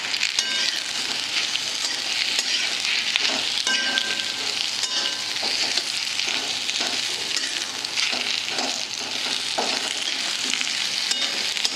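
Sweet potato slices frying in ghee make a loud, continuous sizzle with bubbling crackle, and occasional stirring scrapes and taps are heard up close throughout.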